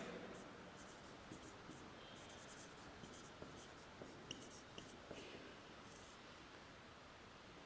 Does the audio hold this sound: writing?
yes